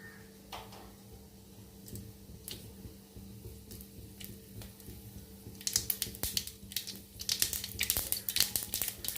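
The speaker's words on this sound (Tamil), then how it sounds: "நல்லா கடுகு வெடிச்சதும்" Mustard seeds splutter in hot oil in a kadai while goat curry is being made. A low hum and sparse ticks come first, then a burst of rapid crackling pops builds up and grows louder toward the end.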